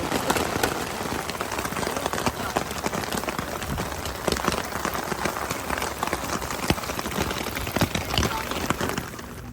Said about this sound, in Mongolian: Цагаануудад бороо ороод байна.